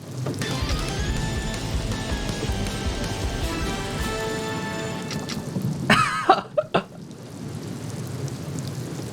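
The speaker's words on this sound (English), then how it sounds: "We don't need this sound effect for rain on the screen." Steady rain loops as an in-game ambience in the House of the Dead Remake, a dense even hiss with faint tonal game sounds over it, then a few sharp thumps and a break before the rain resumes more quietly.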